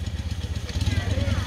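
A motorized vehicle of a Waffen-SS reenactment unit at a military history festival, heard as a throbbing, pulsing engine idle close by, steady and low for the brief moment, with a voice over it.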